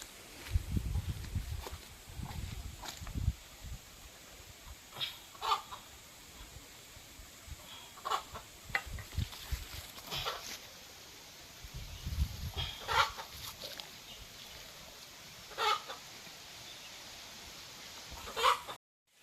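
Scattered short clucks from a desi (native) chicken, some sharper squawk-like calls, separated by gaps with low rustling and handling noise.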